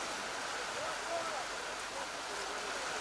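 Heavy rain pours down on an outdoor cricket match in Navi Mumbai as a steady, dense hiss that stays level throughout, while a commentator talks over it.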